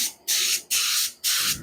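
An aerosol can sprays a very light dusting of primer onto a 1970s Trans Am in three short close bursts, each a sharp hiss separated by brief pauses.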